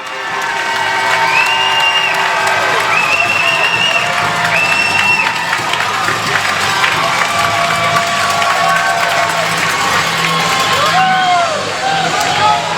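A packed arena crowd roars and cheers steadily after a Deer Lake Red Wings goal in a hockey game against the CB Blues, with whistles and shouts rising through a dense, sustained wall of noise.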